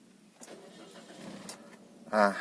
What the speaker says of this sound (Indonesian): Masuk ke dalam, kita nyalakan mesinnya.